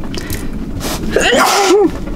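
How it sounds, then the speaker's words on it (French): A woman aboard a sailboat sneezes once, a short sharp burst after a brief breathy intake, close and fairly loud, with soft background noise from the boat around her. "je vais éternuer"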